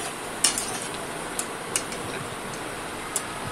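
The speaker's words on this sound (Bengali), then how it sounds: "এদিকে মোটামুটি আমার প্রায় ভাজা হয়েই গেছে পকোড়াটা" Jackfruit pakoras nearly done frying in a pan of oil, a soft continuous sizzle with a few sharp clicks and ticks scattered through, no speech.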